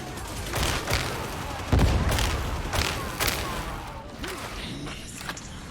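A grenade blast in the game Darktide lands as a heavy boom among sporadic gunfire cracks, with a short burst of shots and ambient combat noise around it.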